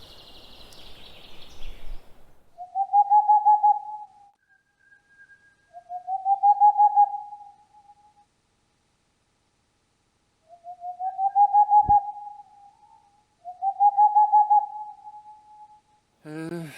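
A boreal owl, also called Tengmalm's owl, gives four separate short bursts of rapid, hollow hooting notes at an even pace, clear against a silent night background, with a brief voice at the start.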